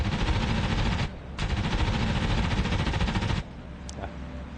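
F4U Corsair fighter's machine guns firing in sustained loud bursts during in-flight combat in a flight video game, with engine drone beneath and a brief pause between long bursts.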